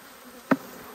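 Bees around a crowded Flow beehive: one bee zips close past in a brief, loud buzz, set against a faint, steady background hum of the colony, with no voices.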